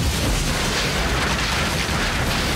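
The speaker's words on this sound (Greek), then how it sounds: "τι έκρηξη είναι αυτή" A large movie explosion as a real building set is blown up in The Mask of Zorro (1998), a dense, loud roaring blast and rumble that fills the whole moment without a break.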